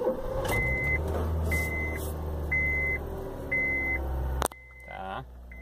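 A 2009 Honda New Fit 1.4 runs at idle with a low, steady hum under a chime that beeps in repeated evenly spaced bursts, then the engine noise drops away abruptly near the end.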